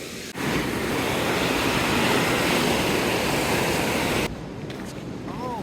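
A river rushes beside a trekking trail near Ala-Kul Lake in Kyrgyzstan, a loud, steady broadband roar of flowing water that cuts off abruptly near the end, leaving quieter outdoor ambience.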